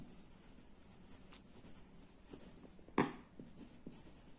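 Chalk or marker writes on a classroom board during a school lesson in a quiet room, a faint scratchy scribble with one sharp tap near the end.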